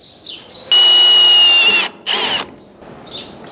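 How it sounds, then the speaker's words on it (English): A power drill boring holes during a BHT-2 baler moisture meter install whines loudly in one sustained burst, then a second shorter burst, close by and without talk. "All right, well I got those holes drilled."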